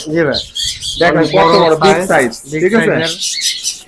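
Tame cockatiels and parrots, including albino birds, squawk harshly in a pet bird shop, with loud, dense, overlapping calls throughout. Voices talk among the birds.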